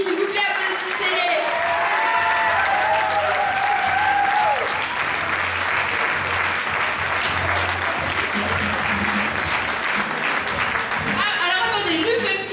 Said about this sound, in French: S'il vous plaît, applaudissez-les.